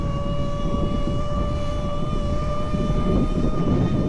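Kamingo e-bike hub motor running on throttle, a steady whine with clear tonal pitches over a broad rushing drone, constant and fairly close.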